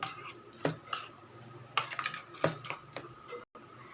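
Chopped carrot, capsicum and paneer get mixed by hand in a bowl for Maggi tikki, a series of irregular light clinks and taps from the utensil against the dish, fairly quiet and close, with no voices.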